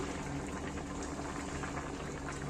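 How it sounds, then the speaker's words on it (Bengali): Fish curry with pumpkin and potato simmers under a lid, a steady close bubbling and hiss that stays even throughout with no talk. "ঢাকা দিয়ে পাঁচ মিনিট রান্না করে নিচ্ছি"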